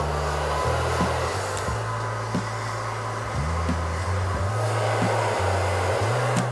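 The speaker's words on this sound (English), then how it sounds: "Take your blow dryer." A blow dryer runs steadily and loudly up close while styling hair over a brush, its whirring hum shifting pitch slightly as it moves, with no talking.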